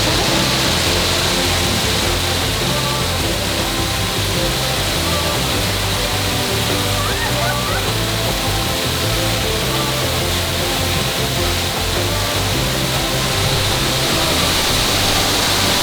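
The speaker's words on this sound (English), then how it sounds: "What a cool waterfall." A waterfall on a European island roars as a constant, loud, dense wash of falling water, unbroken for the whole stretch with no voices.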